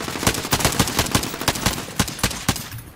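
Rapid video game gunfire comes from the left, a dense run of sharp, loud shots in quick succession with no talk over it.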